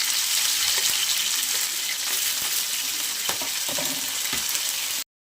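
Green chili and garlic sautéing in hot oil in a pan, a steady close sizzle with light scrapes and stirring clicks scattered through it, and no talking.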